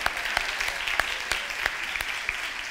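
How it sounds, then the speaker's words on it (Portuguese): A church congregation claps in a sparse, uneven round, with sharp individual claps standing out over a soft wash of quieter clapping. "dá uma salva de palmas aí para ela"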